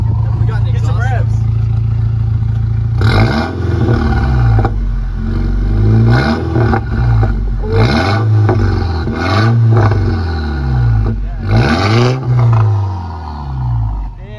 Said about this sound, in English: let me get some revs